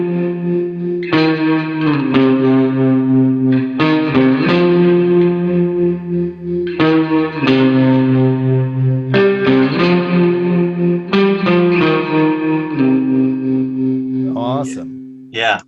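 Electric guitar chords ring out through software amp emulation in Logic, with emulated reverb and wavering tremolo, struck in a slow repeating pattern and left to sustain.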